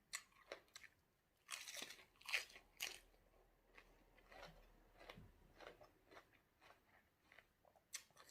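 Crunchy som tam papaya salad is chewed close up, with sharp biting crunches followed by steady irregular mastication, quiet and alone without talk.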